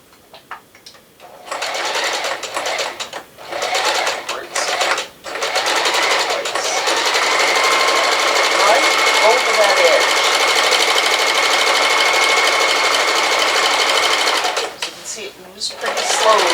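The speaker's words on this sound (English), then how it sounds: "just sew a straight stitch and then go over it again with a zigzag" A sewing machine runs a straight stitch on a bedspread, starting in short bursts and then humming steadily and loudly at a fast, even rate before stopping and restarting briefly.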